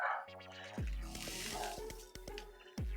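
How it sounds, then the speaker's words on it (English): Leftover smoked brisket juices being poured out for quesadillas, giving soft wet drips and squishy splashes, close and faint, broken up by a few low thumps. "Let's take our leftover juices. Pour it right over there."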